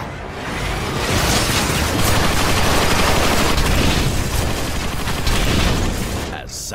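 Turret gunfire in Transformers: Rise of the Dark Spark, a loud continuous barrage of rapid shots and impacts sustained for several seconds, with speech faintly under the noise.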